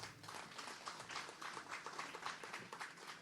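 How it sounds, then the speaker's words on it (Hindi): Crowd applause after a speech at the Jaipur airport Terminal 1 inauguration, faint, dense clapping sustained evenly throughout. "और इसी के साथ एक बार जोरदार तालियां।"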